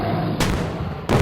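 Two heavy gunshots from a sniper rifle in the mobile game Indian Bike Driving 3D, fired in quick succession. Each is a sharp, loud burst over a steady background rumble.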